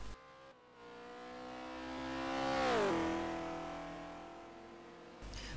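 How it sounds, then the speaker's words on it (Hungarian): Race car engine in a DTM racing video game at the A1 Ring circuit, a single car's whine rising in pitch and loudness to a peak, then dropping as it shifts and fades, heard alone. "Hát elég elhalkult itten ez a motor."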